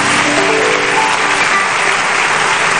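A large audience at a youth event claps steadily and loudly, a dense continuous wash of applause with no breaks.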